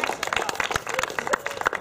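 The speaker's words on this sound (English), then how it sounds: "Big round of applause." Audience claps for a speaker at a talk on landing a dream job after college; scattered, moderately near individual claps with uneven rhythm, fairly light rather than a dense ovation.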